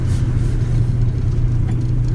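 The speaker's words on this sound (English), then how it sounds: "to really truly experience this car, you have to drive along with the windows down" Car driving with the windows down on a brisk day, a steady low engine rumble with wind and road noise rushing past, loud and continuous with no talk.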